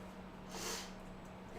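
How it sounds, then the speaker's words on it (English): A single quick sniffle through the nose, soft and close, in an otherwise quiet room. "Forgive me for having the sniffles."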